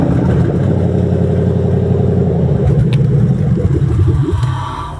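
Ford Crown Victoria V8 engine, a 1996 block fitted with 2003 parts and a questionable MAF sensor, runs steadily with a loud, rough low rumble and slight revving, close by with no talking.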